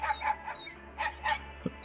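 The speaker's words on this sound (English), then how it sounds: "Dog sounds good." Dog barking in Silent Hill 2: a handful of short, muffled barks in uneven bursts over a low background hum, moderately faint.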